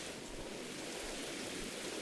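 Heavy, steady rain in the horror video game Mothered, a dense unbroken hiss at low volume with no other sounds.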